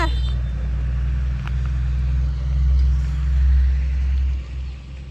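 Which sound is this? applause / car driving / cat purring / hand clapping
car driving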